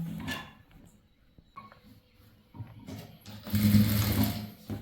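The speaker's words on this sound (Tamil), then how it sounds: "வச்சு இது ஓரமாக தையல் போடணும்." A sewing machine runs along the edge of chudithar fabric, starting with short stop-start bursts and then settling into a loud, steady whirring hum near the end.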